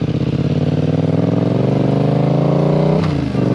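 A Yamaha XSR700 motorcycle engine while riding, a loud steady drone close to the microphone that rises slowly in pitch as it accelerates, then eases off near the end, with no talking.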